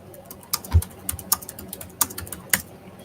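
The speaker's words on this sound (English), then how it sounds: "I was typing to Tommy." Keys clatter on a computer keyboard in quick, irregular bursts of sharp close clicks, with a few louder thumps and short pauses, and no voices.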